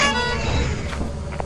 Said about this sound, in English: Who found an air horn?